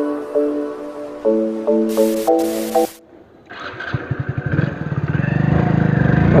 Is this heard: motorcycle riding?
yes